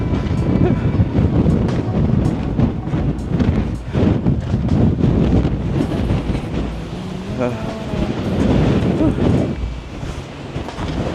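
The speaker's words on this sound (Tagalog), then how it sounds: "Lakas ang hangin dito." Strong gusting wind buffets the microphone on a small mountain near Las Vegas, a steady loud roar with rumbling surges throughout, while people talk over it.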